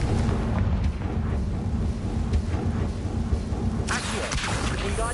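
Confringo blasting spell cast in the Hogwarts Legacy video game, a sudden bright crackling burst landing near the end over a steady loud rumbling, storm-like game ambience.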